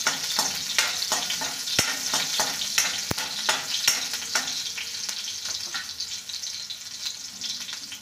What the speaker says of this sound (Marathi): हिरवी मिरची टाकून घेऊया। याला थोडं फिरून घेऊया।